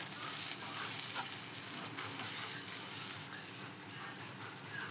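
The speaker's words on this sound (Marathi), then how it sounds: "त्यानंतर या मिरच्या आपल्याला तेलामध्ये छान मिक्स करून घ्यायच्या आहेत" Green chillies fry in hot oil as they are stirred and mixed in a pan, a faint, steady hiss of sizzling with soft shifting crackles throughout.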